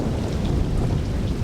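Heavy torrential rain roars on a dark, deserted night as a dense, steady hiss with a low rumble of thunder beneath it, loud and unbroken with no voices.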